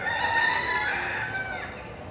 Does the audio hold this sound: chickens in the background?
yes